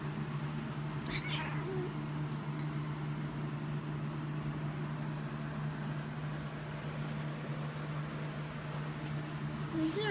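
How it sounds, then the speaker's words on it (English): Cat meowing outdoors as rain starts, a couple of faint, brief meows several seconds apart over a steady low hum and ambient background noise. "Is there a tiny cat there?"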